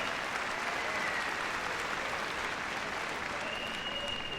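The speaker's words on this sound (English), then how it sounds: "Give a big round of applause" Steady, dense applause from a large arena audience at Crufts fills the air after a freestyle heelwork-to-music dog routine, an even wash of clapping with no break, fairly distant.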